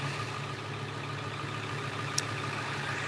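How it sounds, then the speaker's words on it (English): A truck engine idles low and steady while warming up on a residential street, a constant even rumble heard from a short distance with no talk over it. "got his truck warming up"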